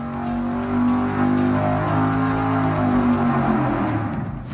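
Dyno-mounted V8 engine fitted with a Dominator carburetor roars under load, a loud, steady close-up drone with strong low harmonics rising and falling slightly in pitch throughout, no voices.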